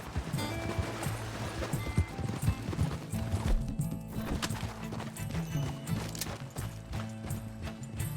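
Horse hooves clip-clop at a gallop in the Western video game Red Dead Redemption 2, a steady rhythmic pounding close by, with a brief whinny and a rider's voice calling out over the ride.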